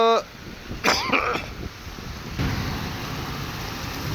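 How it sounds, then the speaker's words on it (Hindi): Heavy rain pours outdoors at night in Medina, a steady broadband wash that grows louder partway through, with a brief cough-like burst near the start. "बारिश और तेज़ हो गई है"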